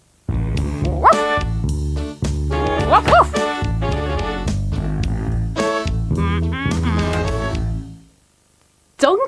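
A few short dog barks and yips ring out over bouncy, upbeat music that plays almost continuously before briefly stopping.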